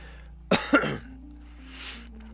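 Two sharp coughs close together, followed by a quiet pause with faint background hum.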